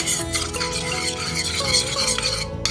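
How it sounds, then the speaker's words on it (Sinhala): A spoon briskly stirs cornflour mixed with water in a small container, making quick, close, repetitive scraping and swishing strokes, with no speech. "දැන් කෝන් ෆ්ලාවර් තේ හැඳි දෙකකට වතුර එකතු කරලා හොඳට මික්ස් කරගන්න"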